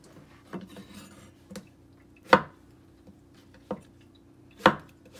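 A knife chops zucchini and cheongyang chili peppers on a cutting board in a home kitchen, with a handful of sharp, separate taps spaced irregularly against a quiet background.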